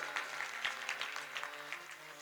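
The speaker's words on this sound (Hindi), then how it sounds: "तालियां बजाओ इनके लिए" Audience clapping for honoured guests at a religious gathering in India, steady applause with rhythmic, moderately distant hand claps continuing throughout.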